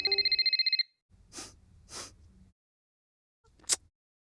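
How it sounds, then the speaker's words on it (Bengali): A mobile phone rings indoors in a short, rapid electronic trill that stops after under a second, followed by quiet sniffs and breaths in an otherwise silent room. "আরে মা, তোমার ফোন কখন থেকে বাজছে?"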